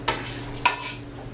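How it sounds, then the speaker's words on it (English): Two quick scraping clinks of a ladle against a pot while lobster bisque is served, close by and moderately loud, with a low steady kitchen hum underneath. "We're gonna go ahead and ladle up our bisque."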